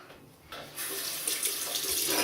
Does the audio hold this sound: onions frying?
no